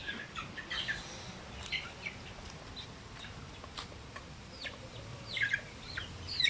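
Native chickens cluck and chirp in a yard, scattered short calls over a rustling background, moderately near with no talking.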